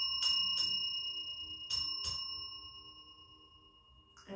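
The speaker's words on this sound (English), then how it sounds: "My bell. So mind your ears." A small handbell is struck four times in two pairs, with bright ringing tones, followed by a long metallic ring that slowly fades. The sound is close and loud, with no talking over it.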